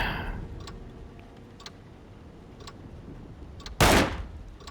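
A single sharp gunshot fired at a lock in the survival horror game Alone in the Dark, one loud broadband crack late in the clip, standing out over a low ambient background with faint ticking clicks.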